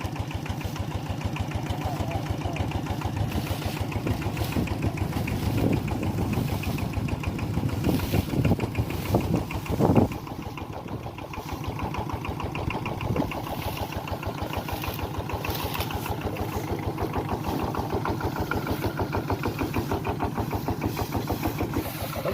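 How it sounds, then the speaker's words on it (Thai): A farm tractor's engine runs steadily through a rice harvest, hauling the cut crop. It makes a continuous, fairly close rumble with a brief surge partway through. "ต้องใช้รถไถพี่น้อง"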